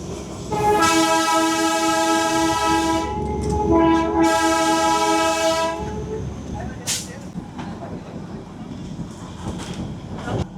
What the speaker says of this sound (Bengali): ট্রেন আবার এখান থেকে রিভার্সে যাবে